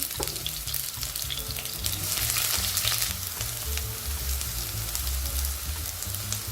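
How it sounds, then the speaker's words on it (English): Aubergine frying in hot sunflower oil in a pot, a steady dense sizzle and crackle like rain on a surface, continuous and close throughout. "Now the oil is hot, so now we're going to be adding our aubergine"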